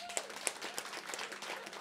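A comedy-show audience claps briefly, a soft scattered patter of hands with a few sharper claps.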